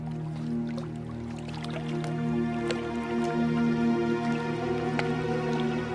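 Water dripping through a leak in a boat, scattered drips and small splashes falling irregularly over a steady low droning hum.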